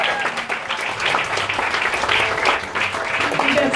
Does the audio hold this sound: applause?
yes